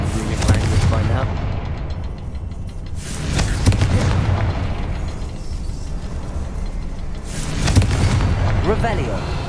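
Confringo fire spell blasts in Hogwarts Legacy: several loud booming explosions in succession, each a sharp burst with a rolling tail over constant rumbling battle noise.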